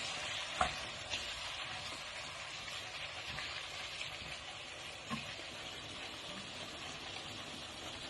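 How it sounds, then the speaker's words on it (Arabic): Green and dry onions frying in a pan while being stirred, a steady close sizzle with scraping and a few soft knocks of the spoon against the pan. "هحط البصل اللي هو الاخضر مع البصل الناشف. احركهم كويس."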